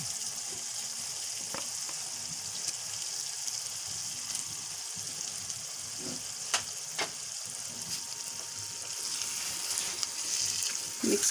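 Fish pieces frying in a pan of masala for fish salan, giving a steady bright sizzle throughout with occasional soft pops and clicks as pieces are placed and stirred.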